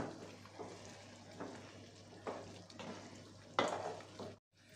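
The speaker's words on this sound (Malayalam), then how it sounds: "നന്നായിട്ടൊന്ന് മിക്സ് ചെയ്യാം." Shrimp biryani with ground coconut is stirred in a pot, giving quiet repeated scraping and mixing strokes over a low sizzle, close and faint, ending abruptly.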